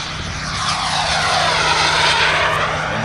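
A radio-controlled F9F Panther model jet flying low on the deck, its engine producing a loud, steady roaring whoosh that swells slightly as it passes, with no talking.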